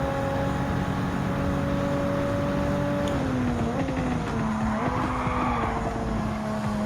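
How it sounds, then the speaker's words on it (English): Gr.4 race cars at Suzuka in Gran Turismo 7, with a loud engine note holding steady and then dropping through gear and speed changes, plus a brief burst of tire squeal, no talk. "one racer in the Ferrari 458 Italia Group 4 just passed me during the inside of the spoon curve"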